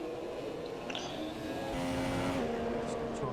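A race car passes in a Formula 1 game, out of the Parabolica corner at Monza, its engine a steady droning whine that rises in pitch partway through, mid-distance and continuous under faint background chatter.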